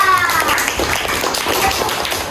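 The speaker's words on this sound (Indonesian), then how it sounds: "Tepuk tangan buat Mas siapa?" Classroom of young pupils clapping for a classmate at a primary school lesson, a dense burst of many small hands applauding steadily and fairly close, with some chatter mixed in.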